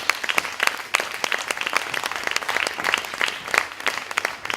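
A small crowd claps at an evening salon event at the BBox, the claps sharp and distinct with an uneven, lively rhythm, fairly close.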